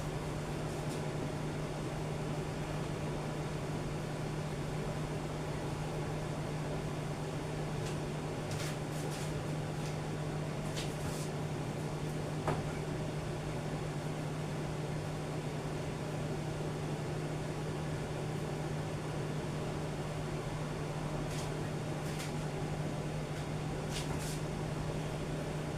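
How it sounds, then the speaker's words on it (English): An electric fan runs in a home kitchen with a constant loud motor hum and airy whoosh for the whole stretch, steady and unbroken, with a few faint clicks and no talking. "My fan make a lot of noise."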